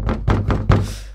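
An auto-rickshaw driver locked in a bathroom bangs on the door with four heavy, evenly spaced thuds, close and loud, as a story sound effect in a Hindi horror tale.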